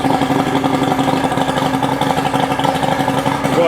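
A 1989 SeaCraft 18cc boat's outboard engine idles steadily nearby, a loud, even, chugging rumble with a regular pulsing beat throughout.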